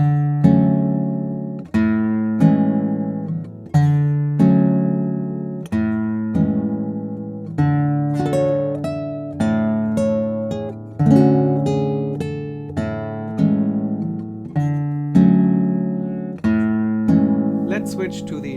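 Classical nylon-string guitar captured by an L.R. Baggs Lyric microphone, playing a steady sequence of plucked chords and arpeggiated notes, each attack ringing and decaying in an even rhythm, close and clear.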